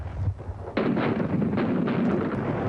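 Artillery guns firing shells in World War I, with heavy booming blasts and a sharp onset that leads into a sustained, dense roar of gunfire. The fire is loud and continuous, with no voices.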